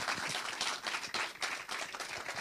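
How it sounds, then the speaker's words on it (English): Studio audience applauding at the close of an interview show, a steady dense patter of many hands clapping throughout, moderately loud and with no voices over it. "A round of applause for yourselves"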